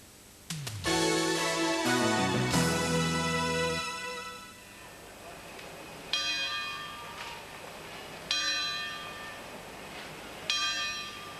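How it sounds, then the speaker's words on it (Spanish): Church bells ringing in Santa Coloma, loud rich peals with long ringing overtones, a dense cluster of strikes at first, then single strokes recurring every couple of seconds and decaying between them. "Los vecinos de Santa Coloma han escuchado hoy en silencio el sonido de las campanas."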